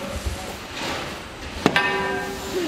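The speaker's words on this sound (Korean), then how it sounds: "익숙한데 망치질하는 게?" At a winter ski resort, a hammer strikes metal close by. One sharp blow leaves a ringing tone against a noisy outdoor background.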